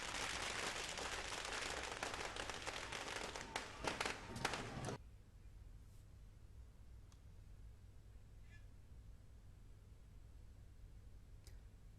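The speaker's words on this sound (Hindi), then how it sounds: "देहरादून में कांग्रेस के कारकुनान ने गांधी पार्क के आगे जमकर आतिशबाजी की" Fireworks set off by party workers in front of Gandhi Park in Dehradun during a victory celebration, a dense burst of loud crackling bangs for about five seconds, then quiet with only faint scattered pops.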